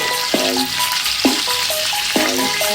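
Baby back ribs frying in oil in a pan on the stovetop give a continuous close sizzle, with a few sharper crackling pops at intervals.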